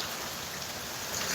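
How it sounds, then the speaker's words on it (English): Steady rain falling outdoors, a dense continuous hiss of drops on surfaces that holds even and fairly close throughout with no other sounds. "That rain is so pretty, look."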